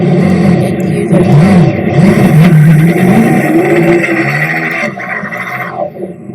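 A car engine in a Roblox game revs loudly, the pitch climbing and falling in repeated surges, then settles to a quieter idle near the end.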